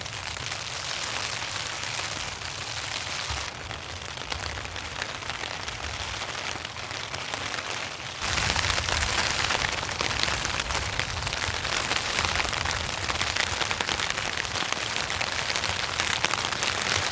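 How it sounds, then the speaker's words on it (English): Rain falls steadily on a tent during a heavy rainstorm while someone camps alone, a dense continuous patter close overhead that grows louder and heavier about halfway through. "It's cozy in the tent though, especially when the rain starts falling"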